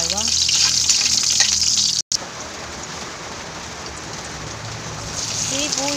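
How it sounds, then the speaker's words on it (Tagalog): Steady rain hiss pours down continuously, loud and close, with a brief dropout partway through and faint sizzling of garlic and onion frying underneath. "Maingay yung ulan."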